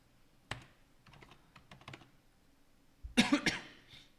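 Keys struck on a computer keyboard in a quiet room, a sharp tap followed by a few light scattered presses, then a louder cluster of clicks with a brief rustle, no talk.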